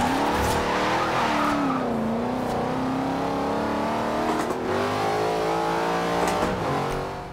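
A Ford Bronco drifting in the Forza Horizon 2 video game: a sustained engine drone rises and falls in pitch as tires squeal and skid continuously, loud and close for several seconds.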